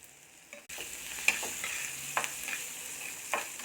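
Peanuts sizzling in hot oil with green chilies and turmeric for egg upma, a soft steady frying hiss broken by a few sharp spatula scrapes and taps against the pan; no talking.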